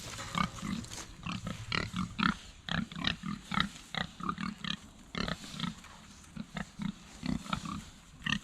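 Pigs on a farm grunting and oinking in quick irregular bursts, close and fairly loud, several animals calling over one another with short pauses.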